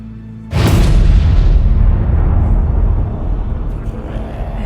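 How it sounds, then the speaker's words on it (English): A sudden loud explosion bursts in with a deep boom, followed by a long, heavy rumbling roar that slowly fades. "I heard a loud explosion."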